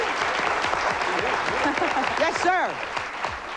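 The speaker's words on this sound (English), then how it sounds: "Little applause." Audience applause at a live Latin music event honoring a musician, clapping running steadily throughout under a man's speech, with a brief warbling tone near the end.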